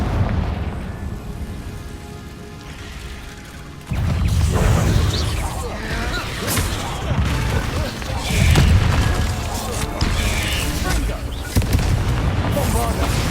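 Booming spell blasts and explosions from Hogwarts Legacy combat roll out loud and close, heavy low thumps repeating over several seconds amid a spoken spell call and busy game noise.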